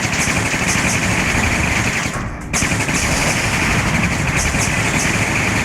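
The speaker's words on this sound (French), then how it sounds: "On va laisser déjà notre artillerie faire son œuvre." Artillery fires in the video game Warzone 2100. The loud, dense barrage of rapid gunfire-like blasts rumbles almost continuously and breaks off briefly before resuming.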